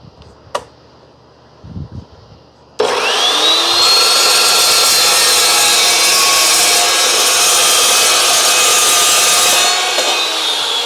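A saw cuts steel stock for the door bands of a homemade BBQ smoker, starting abruptly after a few small knocks and running as a loud, steady, harsh whine for about seven seconds before winding down.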